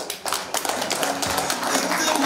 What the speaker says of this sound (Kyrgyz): кол чаап койгула